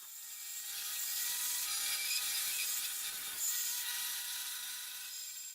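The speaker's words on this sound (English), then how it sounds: "Next, we have to cut the box shape out, and this is all done on the bandsaw." A bandsaw cuts a box shape out of a wooden block, giving a steady, sustained rasping whine that stays close and even for several seconds, with no talking.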